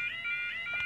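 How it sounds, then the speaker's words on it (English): Newly replaced alarm at Liss Common Level Crossing ringing, a steady high electronic tone with pulsing warbles, loud and continuous throughout, no talk over it. "Oh yeah, alarm's been replaced."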